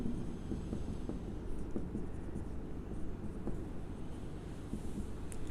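Writing on a board during a chemistry lesson: soft, scattered scratches and taps over a low background hum, with no voices.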